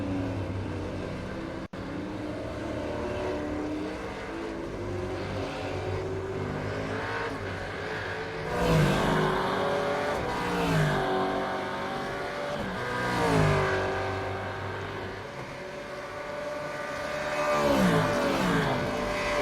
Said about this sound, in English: Does sound like Varndell is doing a bit of clutching